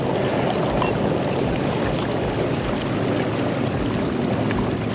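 A Garmin Force Current kayak trolling motor runs at turbo speed, a steady loud rush of water and motor hum that continues without a break and without talk.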